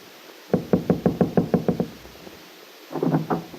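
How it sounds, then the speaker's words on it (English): Someone knocks on the door of a house, first with a quick, loud run of about nine raps, then a short pause and a faster cluster of several more knocks, close and crisp. "Peggy knocked at the door, which was opened by her friend James."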